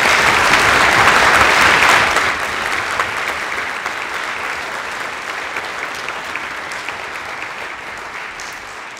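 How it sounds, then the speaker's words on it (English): Audience applause at a high school spring orchestra concert, a loud, dense wash of clapping that peaks over the first two seconds, then eases to a steady, slightly softer ovation through the end. "let's give these folks a round of applause."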